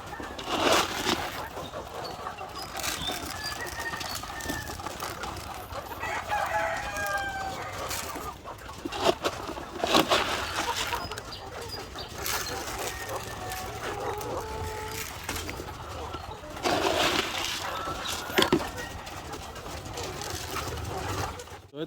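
Heritage breed cross chickens and pullets crow and cluck around a coop at feeding time, several roosters calling repeatedly at mid distance over a steady background of clucking, with someone talking now and then.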